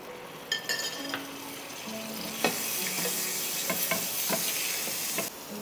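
Ginger garlic paste sizzling in oil in a frying pan just used to fry fish for chilly fish: an even, close, crackling sizzle with stirring strokes and occasional light metallic clinks.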